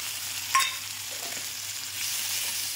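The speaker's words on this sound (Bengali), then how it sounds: "তেলটা গরম হয়ে গেছে, দিয়ে দিলাম পেঁয়াজ, কুচানো পেঁয়াজ" Chopped onions fry in hot oil with turmeric, salt and green chillies, a steady close sizzle with a brief clatter of stirring near the start and no voices.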